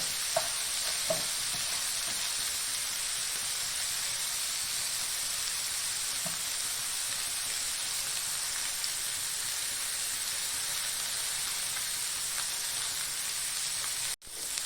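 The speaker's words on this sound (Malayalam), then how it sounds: "മീൻ പൊരിക്കാൻ വേണ്ടി വെച്ചത് ഒന്ന് ചൂടായി വരുമ്പോൾ" Fish frying in a pan, an even, continuous sizzle and hiss close up with a few faint clinks, lasting throughout before a sudden short cut near the end.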